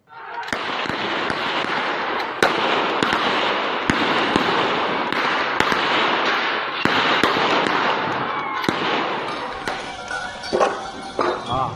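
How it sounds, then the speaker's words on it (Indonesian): Police fire warning shots into the air to disperse looters at a nickel processing industrial park in Morowali, Central Sulawesi: a dozen or so sharp, loud cracks at irregular intervals over constant crowd commotion and shouting. "Polisi terpaksa melepas tembakan untuk membubarkan puluhan orang"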